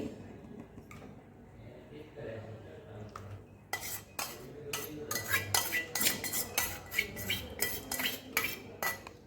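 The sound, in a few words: stirring crushed chickpeas roasting in ghee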